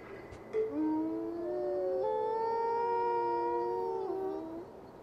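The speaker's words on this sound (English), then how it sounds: "Now the two bottom ones howled." Creatures in the forest of the video game Tengami let out long, sustained overlapping howls, two voices sliding and wavering together for several seconds before fading.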